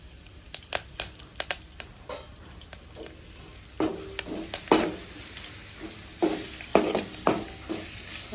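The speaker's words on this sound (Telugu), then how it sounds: "వట్టి మిరపకాయలు కరివేపాకు ఒక రెండు రెమ్మలు వేసుకొని బాగా ఫ్రై చేసుకోవాలి" Dried red chilies and curry leaves frying in a pan, a steady hiss of hot oil broken by sharp pops and crackles and occasional scraping of a spatula, close and moderately loud, with no speech.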